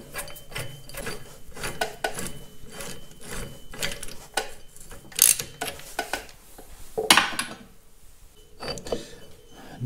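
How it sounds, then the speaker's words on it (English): A rusty forcing screw is threaded by hand into the bevel gear shaft of a Caterpillar D2 crawler, giving close metallic scraping, ratcheting and gritty rubbing with a few sharp clinks, no talking. "So I'll get that threaded in. Engage just as many threads as I can in that bevel gear shaft"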